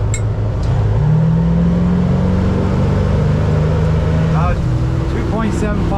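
A 1998 Striper 2150 boat engine accelerates loudly on open water, a steady powerful drone rising in pitch as the throttle is opened, with wind and water noise throughout.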